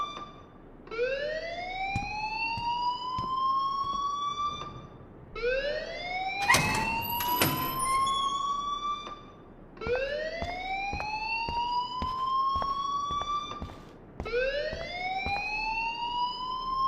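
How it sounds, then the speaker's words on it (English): A wailing school alarm in Life Is Strange rises in repeated siren-like sweeps, four long cycles with brief gaps between them, loud and steady, with a sharp clatter partway through and no talk. "please turn off that alarm since that's your job"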